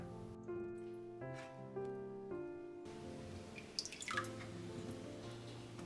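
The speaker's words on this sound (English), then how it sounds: "Then I remove them from the water." Soaked taro pieces drip water as they are lifted out of a bowl, with soft scattered droplets and small splashes close by, while gentle tonal music plays during the first half.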